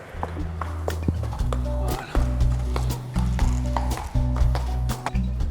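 A horse walks across an indoor riding arena during carriage-driving training, its hooves clip-clopping at a steady, close pace while a trainer talks over it.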